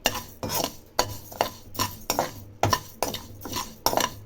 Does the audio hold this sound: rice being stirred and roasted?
yes